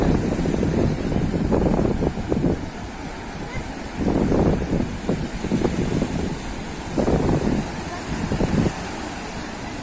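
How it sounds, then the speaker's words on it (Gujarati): Sea waves at Dwarka surging and breaking in repeated swells over heavy wind buffeting the microphone, loud and close. "આ દ્વારકાનો દરિયો કેવા મોજા ઉછળે છે"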